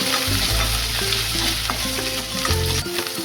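Dried red chilies, curry leaves, onion, mustard and cumin frying in hot oil for a tempering, with a steady loud sizzle and crackle, occasional pops and faint stirring knocks, close up with no talking.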